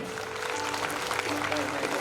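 Audience applause welcoming a guest at a spiritual program in Amravati, a dense wash of clapping with a voice speaking over it.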